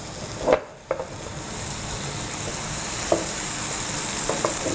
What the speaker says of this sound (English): And we're going to get some of that sauteed up